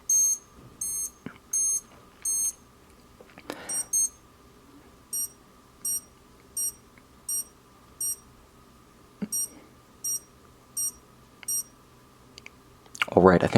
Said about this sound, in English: When you push the crown down, you activate the minute repeater function, so if you can't see your watch, you can still hear it.